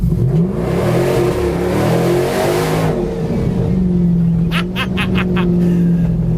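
A loud, rumbling engine of a modified 575 bhp Bowler P1 prototype Land Rover Defender revs hard and close, droning steadily with rising and falling pitch, a brief sharp rattling burst near the end.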